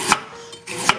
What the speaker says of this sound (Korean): 요즘 쪽파가 머리가 굵으니까 머리 쪽은 송송송송 썰어주시고